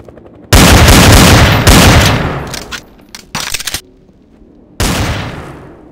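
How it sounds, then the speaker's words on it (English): Loud video game gunfire erupts in heavy rapid bursts, breaking into shorter volleys and separated by brief silences before another burst. "You shot me as I was coming out, bro."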